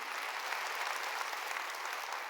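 Steady applause from a church congregation during a sermon, continuous dense clapping at a moderate distance with no breaks, filling the whole stretch evenly.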